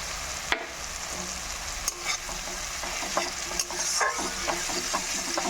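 Chopped green chilies fry in a spiced masala with melted tomatoes for a Bengali vegetarian chickpea dal and potato curry, a steady sizzle broken by repeated scraping stirs of the spoon, close and clear with no talk.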